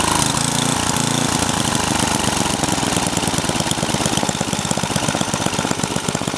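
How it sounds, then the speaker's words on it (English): A Husqvarna snowblower with a 9 horsepower Tecumseh engine runs loud and close, holding a steady, fast chugging throb with a heavy low rumble and no talk over it. "Just had the 9 horsepower Tecumseh engine on here as well too"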